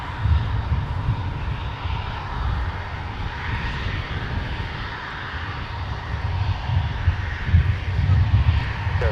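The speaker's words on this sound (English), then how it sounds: "A321 crossing runway 12 right" An Airbus A321 jet at MSP airport gives a steady low rumbling roar with a broad whine above it, swelling slightly toward the end at moderate distance, with no talk.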